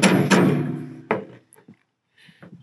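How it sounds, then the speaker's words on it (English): A PTO U-joint hammered down past its clip ring during a field repair: two loud, close metallic knocks followed by a third, then small clatters and handling noises fading out. "So I knocked it down past the clip ring mark."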